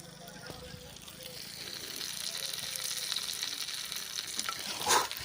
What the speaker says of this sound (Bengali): এখানে তেলটা দেখো ফুটছে পুরো এই গরমের মধ্যে